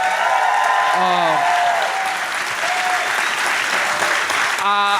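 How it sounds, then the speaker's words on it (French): Audience applause for a pair of comedians at a live comedy show, a steady wash of clapping that fills the whole stretch, with a speaking voice heard over it near the start and again at the end. "Est-ce qu'on peut leur donner un tonnerre d'applaudissements, s'il vous plaît?"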